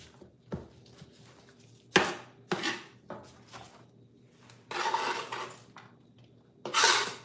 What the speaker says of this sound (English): why I'm chopping it like this when I'm juicing it on the juicer.